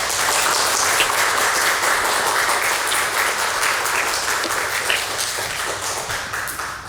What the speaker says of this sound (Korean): 나오실 때 우리 환영의 박수 한번 주시기 바랍니다.